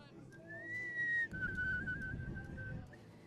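A person whistles a sustained, fairly steady tone for a few seconds, breathing in or out through it, faint and close against a murmuring room of voices.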